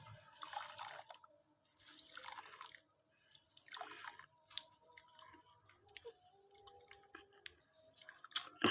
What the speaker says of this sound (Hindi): ये देखें कितना पानी निकल गया।